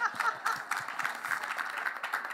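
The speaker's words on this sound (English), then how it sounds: "Y'all can clap now." An audience applauds at a panel event on LGBTQ women, dense and moderately loud clapping from a mid-sized crowd, continuous for a couple of seconds.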